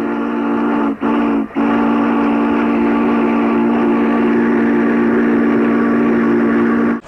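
A steady, loud mechanical drone with a strong low hum from steam locomotive SP 4449 running continuously while pulling a train, with two brief dips near the start.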